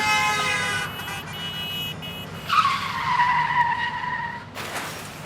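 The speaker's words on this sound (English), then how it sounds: "Wrench's ex-wife shields her eyes, loses control of her car. It drifts out of the way." A car skids as its driver loses control in an audio drama, a loud close tire squeal rising and sliding for a couple of seconds over engine noise, following a blaring horn-like tone.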